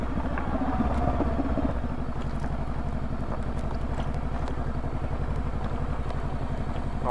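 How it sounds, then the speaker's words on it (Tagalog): Bristol Venturi motorcycle engine idling unevenly, a close, steady low thumping putter with a rough, faltering rhythm as it struggles to stay running. "Namamatay-matay yung makina ko pag nag-a-idle."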